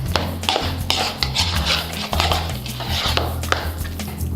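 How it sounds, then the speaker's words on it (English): Minced ingredients are stirred into guacamole in a bowl, giving close, irregular soft taps and scrapes of a utensil against the bowl in quick succession. "Now we add that in there and just stir it up."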